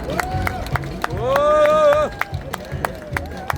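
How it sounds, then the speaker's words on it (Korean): Crowd applause and cheering at an outdoor political rally over alleged election fraud, a clapping swell building and peaking midway, with a loud sustained tone and rally chatter around it. "여러분 다시 한번 응원의 박수 부탁드리겠습니다"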